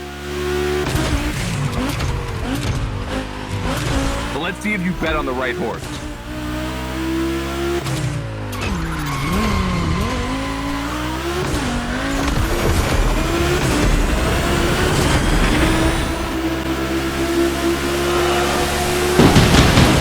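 Race cars in The Crew Motorfest gymkhana grid event, engines revving hard with tire squeals and skids, loud and continuous under a commentator's voice.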